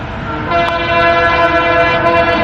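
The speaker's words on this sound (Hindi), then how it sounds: "ट्रेन की आवाज़" A train horn blares in a steady, sustained chord over the low rumble of the moving train, loud and close.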